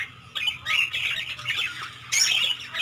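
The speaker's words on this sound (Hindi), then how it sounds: "ये आपके सामने बजीस कॉलोनी, इसे ऑस्ट्रेलियन पैरोट या बजरी तोता भी कहा जाता है।" A colony of budgerigars, Australian parakeets in red-eyed fallow, pink-eyed, ino and grey-feathered colour mutations, squawks and chatters in a dense, continuous bright chorus that swells louder near the end, with no talk over it.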